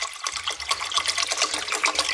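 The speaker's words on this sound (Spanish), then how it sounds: "Le voy a poner un poquito más de agua." Water pours into a cooking pot in a home kitchen, a steady close splashing stream over a low hum, with no talking.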